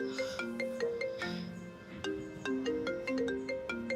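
A mobile phone ringtone plays a bright melodic pattern of repeated electronic tones, steady and clear with no voices over it.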